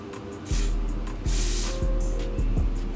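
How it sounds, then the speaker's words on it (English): A spray bottle spritzes during a lace wig install at home, giving two or three short, close hissing puffs over faint background clicks and thumps. "let me spray this on real quick"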